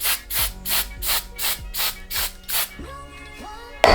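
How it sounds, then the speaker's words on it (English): Light hairspray misted onto a curly wig in seven quick, evenly spaced hissing bursts, close and bright, followed by a brief quieter pause and a final loud hiss at the end. "Using a really light hairspray."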